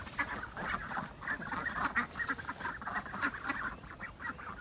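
Khaki Campbell ducks hurry across their pen in a steady flurry of honks and quacks, a busy flock close by with no talking.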